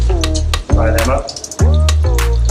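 Blue swimmer crab legs fry in a wok that is not especially hot, giving a steady sizzle under a loud, low hum, with a voice-like tone rising over it at moments.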